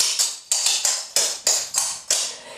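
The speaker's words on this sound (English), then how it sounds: "So double back, tap before you step. And a one and two and a one and two." Clogging shoes strike a hard floor in double-back and tap steps, making about nine crisp, bright taps in an uneven, syncopated rhythm, loud and close with no talking.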